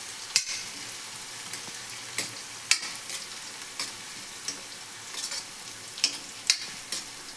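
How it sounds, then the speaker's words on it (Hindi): Onions fry in a pan, a soft steady sizzle broken by repeated sharp scraping clacks of a spoon stirring against the metal, close up and at an irregular rhythm. "हमारे प्याज भून जाए, उसके बाद मसाला डालेंगे इसमें।"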